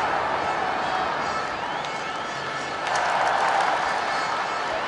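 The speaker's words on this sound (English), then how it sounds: "The crowd go wild as they win the Division 2 title" Stadium crowd in the football video game Dream League Soccer 2017 roaring and cheering as a team clinches the Division 2 title, a dense steady wash of noise that swells louder near the end, with commentary woven into it.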